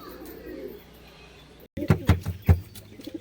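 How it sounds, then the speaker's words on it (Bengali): A pair of black Chennai Madras breed pigeons coo close by, giving several soft, low throaty pulses in the second half after a quieter stretch of background noise. "চেন্নাই ব্রিডের একজোড়া ম্যাড্রাস পায়রা, কালো পায়রা।"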